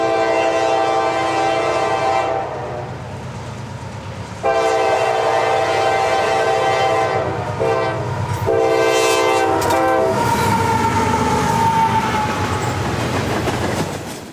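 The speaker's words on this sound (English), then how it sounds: "CSX 309 leads northbound Manifest M400 through town" A CSX freight train, a northbound manifest led by locomotive 309, rolls through a North Carolina town, its loud horn sounding in long sustained blasts over steady rumbling and wheel noise that continue throughout.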